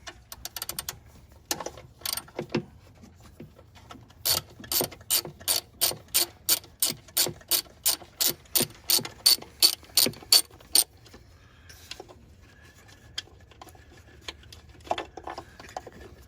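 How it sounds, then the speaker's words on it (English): A ratchet clicks in a rapid, even run of sharp ratchet-pawl strokes while one bolt is backed out of the EVAP purge valve on a 2005 Toyota Tacoma, close and fairly loud, then trailing off into quieter handling noises. "Let's take that one bolt off"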